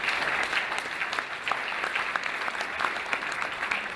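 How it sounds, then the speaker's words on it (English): Audience applause at the kickoff of a world event, a dense, steady burst of clapping from a crowd that carries on evenly with no break. "Give them a big hand clap"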